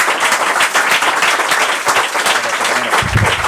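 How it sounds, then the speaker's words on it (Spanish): Lecture audience in Bilbao breaking into applause for the speakers, a dense, close burst of many hands clapping continuously, slightly swelling toward the end. "ya les dejo que le aplaudan todo"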